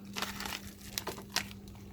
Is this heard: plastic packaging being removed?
yes